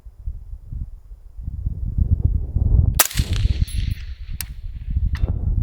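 An AR rifle fires outdoors in wind, one sharp loud crack followed by a couple of fainter metallic pings and another shot, over constant low rumbling wind noise on the microphone.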